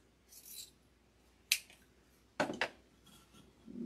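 Scissors cut through wires and ribbon while a DIY Christmas centerpiece with lights is assembled: a few sharp, close snips, one single and then a quick double, in an otherwise quiet room.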